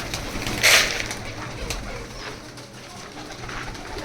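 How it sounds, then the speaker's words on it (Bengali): Pigeons in a three-room home pigeon house holding many pairs and young birds, cooing and rustling continuously nearby, with a brief louder flutter early on. "মোটামুটি 150 জোড়ার মতন কবুতর রয়েছে 3টা রুম মিলে"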